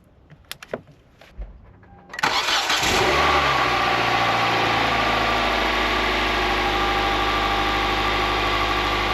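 A small car with its battery unhooked, kept alive by a jump start: a few faint clicks and knocks, then the engine catches abruptly and settles into a loud, steady, close-up idle that holds without a break.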